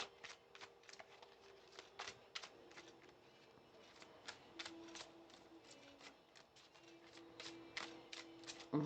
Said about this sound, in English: If we don't have one fall soon, what I'll do is just cut the deck and we'll pull from the top.